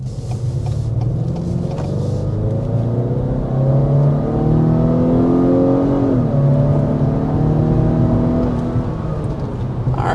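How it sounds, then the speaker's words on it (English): Cabin sound of a 2026 Acura RDX under hard acceleration to about 60 mph: a steady engine drone rising in pitch through the gears, with a brief dip at a shift, loud and continuous throughout. "There's a quick acceleration up to around 60 miles per hour. here in the Acura RDX."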